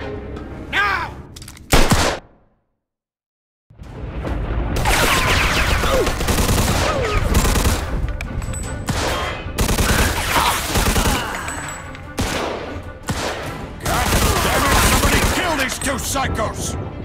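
Rapid bursts of gunfire in the Mafia II video game, loud overlapping shots and automatic fire in long clusters, broken by a short silent gap and a few short voice fragments at the start.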